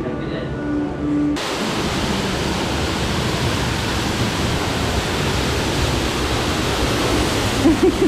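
Roaring rush of a big waterfall at Epcot, loud and constant, a steady wash of broadband noise starting abruptly and continuing throughout.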